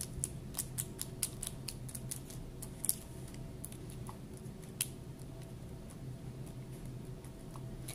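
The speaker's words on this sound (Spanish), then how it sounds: "Voy a tomar mi pedacito de papel encerado, lo voy a arrugar, lo voy a extender y lo voy a colocar encima." A small piece of wax paper is crumpled by hand, with quiet, close crinkles and sharp crackles in irregular bursts over a soft background hiss.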